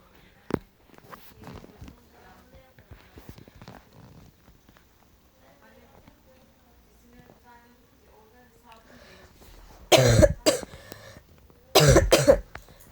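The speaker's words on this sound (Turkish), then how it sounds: "ben hastayım öksürüp duruyorum" Speech runs quietly, then two loud bursts of harsh, hacking coughs from a sick person break in close to the microphone near the end.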